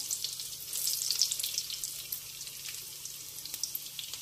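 Potato and cabbage pieces frying in hot oil in a small pan, a soft continuous crackling sizzle heard up close with brief rises and pops and no voices.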